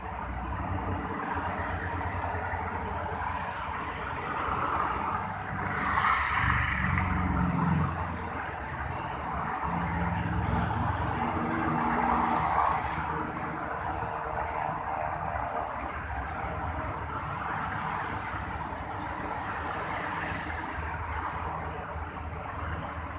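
Continuous traffic of private cars, buses and trucks on the Jakarta-Cikampek toll road, a steady rumbling roar of engines and tires with occasional louder passing vehicles, heard at a distance without speech.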